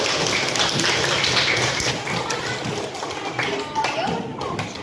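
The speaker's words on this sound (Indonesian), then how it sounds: "Tepuk tangan" Schoolchildren clapping in unison in a classroom led by a teacher, a dense run of sharp claps under a noisy room with voices.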